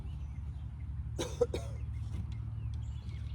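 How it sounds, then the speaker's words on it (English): A pair of sharp coughs in quick succession over a low steady background hum, with quiet stillness before and after. "That coughing had about taken something out of me."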